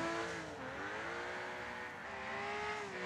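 Nissan R33 Skyline drifting in the racing game Wreckfest on PS5, a steady engine drone with rising and falling revs and tire squeal running continuously and loud, with no talking.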